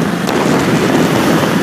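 Riding a Honda CBR 650F motorcycle produces a loud, constant blast of wind buffeting the microphone, with the engine's drone blended into the rushing noise and no speech.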